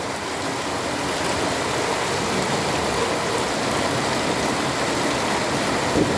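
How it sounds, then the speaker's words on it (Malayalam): Heavy rain pours down in a steady, dense hiss that fills the whole stretch without a break. "അടിപൊളി മഴയാണ് ഇത് നാച്ചുറൽ സൗണ്ടാണ് മഴയുടെ"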